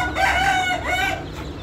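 Aseel chickens are heard up close, with a rooster giving one loud, full crow that rises and falls, and clucking from hens that continues under and after it.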